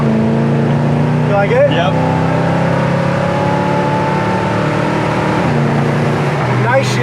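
A 1970 Chevelle accelerating hard, its engine rising through the revs and dropping sharply at each quick gear shift, loud and close, with brief talk between people over the engine.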